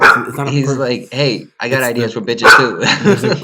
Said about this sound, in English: No, he's been barking.